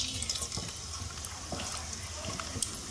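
A thin raw jackfruit papad fries in hot oil over a low flame, giving a soft, continuous bubbling sizzle with faint crackles while a person talks quietly.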